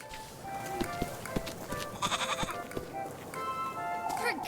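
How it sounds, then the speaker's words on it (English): A goat bleats several times in wavering cries over a faint rustling farmyard background, fairly close, with no clear speech. "You and that goat of yours, Rosemarine."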